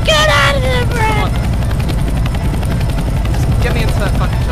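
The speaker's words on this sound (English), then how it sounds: "That's the chopper." A helicopter from the video game CS:GO thunders close and loud in a dense constant rotor roar, while excited voices talk over it at the start and end.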